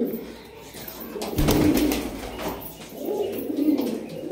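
Black high-flying pigeons coo in low, throaty murmurs that swell and fade, with a brief burst of rustling noise in the middle.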